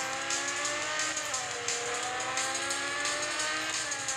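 A BMW race car in Real Racing 3 accelerating with a steady, high revving engine whine and shifting tonal harmonics, continuous and fairly close throughout.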